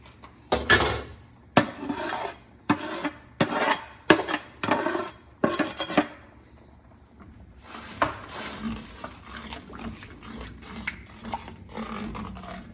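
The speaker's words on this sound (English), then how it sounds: "It's time for me to drop the roasted semolina into it." Roasted semolina goes into a boiling pineapple, sugar and water syrup and is stirred in a pot. A spoon strikes the pot in a run of sharp metallic clinks, then a softer, quieter scraping and bubbling follows. No one speaks.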